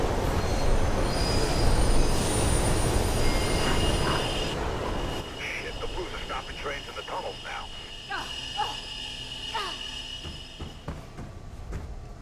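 A train in the first-person parkour game Mirror's Edge rushes past, a loud rumbling roar with screeching wheels that fades after a few seconds into quieter clanks and background game sounds. Someone speaks over part of it.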